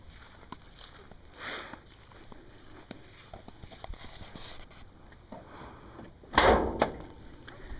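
The hood release on a stored, well-kept classic car pops open with a sharp, loud mechanical clunk near the end, preceded by a few softer knocks and rustles close by.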